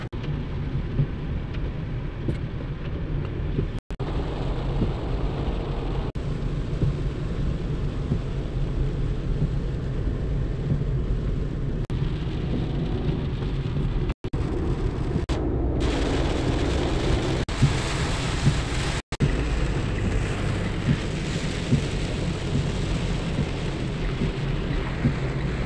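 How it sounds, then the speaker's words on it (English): Heavy rain pours outdoors in a steady, loud, unbroken roar that lasts throughout, with a few faint clicks and no voices. "it's so rainy!"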